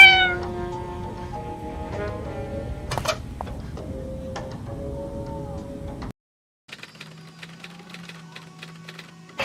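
A cat in the video game 1954 Alcatraz meows in a series of high, drawn-out calls over a low rumbling game backdrop, followed after a brief gap by quieter ambient tones and small clicks.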